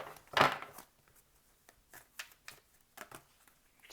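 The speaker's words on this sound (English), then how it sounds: "One more shuffle here." Tarot cards are shuffled by hand in a quiet room, a loud riffling burst near the start followed by several softer, brief card flicks and taps.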